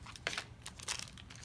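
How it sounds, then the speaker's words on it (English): A Mini Lalaloopsy blind bag package crinkles and rustles as it is handled and opened, with a few short bursts of plastic crinkling close by and no talking. "So let's go ahead and open this light pink one."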